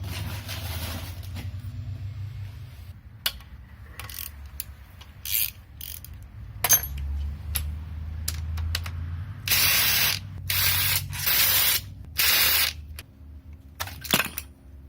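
Ratchet wrench loosening a bolt on a VW Passat engine during disassembly: bursts of quick clicking ratchet strokes, close and fairly loud, separated by pauses and a low steady hum, with no talking.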